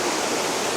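Water pours steadily at Tadtaran Waterfalls, a dense, loud, continuous rushing roar heard up close with no voices.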